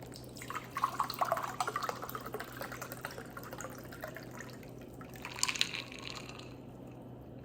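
Homemade anti-inflammatory juice being poured, soft splashing and trickling in uneven bursts, faint and close with a steady low background hum and no talk.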